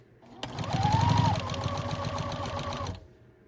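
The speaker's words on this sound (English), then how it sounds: "so that I can just keep sewing." Sewing machine stitching a quilted table runner, a short close burst of rapid rhythmic needle clatter with a motor hum that starts, runs steadily for about two and a half seconds and stops.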